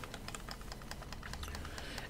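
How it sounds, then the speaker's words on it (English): The plastic buttons of a new game controller click rapidly and irregularly during a Neverwinter boss fight, a dense run of quiet, close taps under a steady background hiss. "you're going to hear a lot of clicking, a lot of plastic. That's because I have a new controller today"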